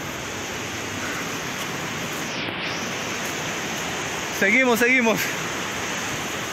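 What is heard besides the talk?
river flowing along the hiking trail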